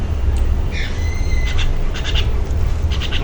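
A restless pigeon kept among pet birds calls several times in short hooting coos, moderately close, over a constant background hiss.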